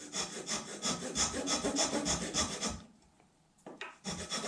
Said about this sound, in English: this is actually a nut file,